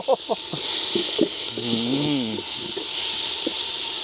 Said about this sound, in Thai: ใส่น้ำมันลงผัดเครื่องสักหน่อย